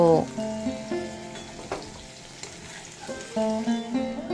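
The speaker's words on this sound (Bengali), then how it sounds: "ভেজে নেব আলু বরবটি খুব ভালোভাবে ভাজা হয়ে গেছে" Potatoes and yardlong beans frying in mustard oil in a pan: loud, close crackling sizzle with a few stirring clatters and a brief quieter lull midway, no talk.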